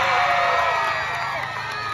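Crowd at a Pasig mayoral campaign rally shouting and cheering, a steady loud roar of many voices with whoops throughout.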